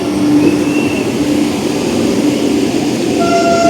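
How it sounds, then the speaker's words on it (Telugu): The Vande Bharat Express, from Narasapur to Chennai Central, pulls into a platform on its inaugural run, a loud steady rumble and rolling drone with faint whistle-like tones, and no voices. "వచ్చేసింది మన వందే భారత్ ఎక్స్ప్రెస్."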